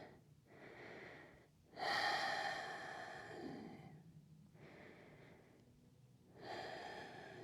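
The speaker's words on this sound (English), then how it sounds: "Breathing deep into the belly." Slow, deep belly breaths during a gentle yin yoga pose, long soft inhales and exhales close to the microphone, repeating in an unhurried rhythm with no talking.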